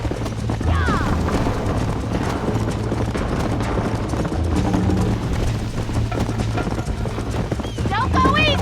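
Horse galloping with steady hoofbeats in the Red Dead video game, with occasional whinnies and voices talking over the hooves throughout.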